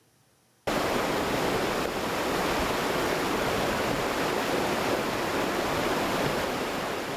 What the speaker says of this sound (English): the rain continues and the water flows fast